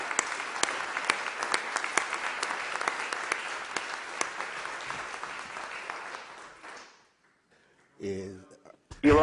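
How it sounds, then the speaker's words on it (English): Audience at a board meeting applauding retirees, clapping that carries for about six seconds, then fades to near silence before people begin talking again. "let's give one more round of applause to all of our retirees."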